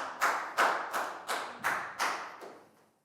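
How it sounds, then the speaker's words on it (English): Round of applause in a classroom, heard as about seven slow, evenly spaced claps ringing out close and fairly loud, then tapering off to silence with no talking. "Big round of applause too"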